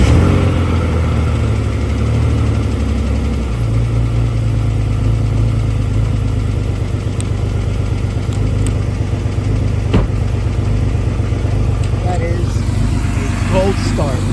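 A BMW M3 engine, with an added secondary fan, restarts and settles into a loud, steady, low idle rumble close by that runs throughout, with faint brief clicks on top.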